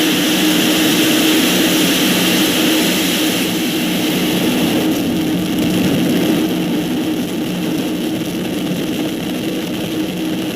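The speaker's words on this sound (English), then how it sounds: "Ignition. liftoff of the Falcon 9." Falcon 9 rocket ignition and liftoff, a loud, continuous broadband engine roar that holds steady and alone for about ten seconds, with a slight drop in intensity midway.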